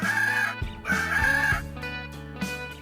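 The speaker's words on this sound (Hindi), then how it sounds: "मुर्गा," A rooster crows in several drawn-out, harmonic bursts over a steady musical background, loud and close.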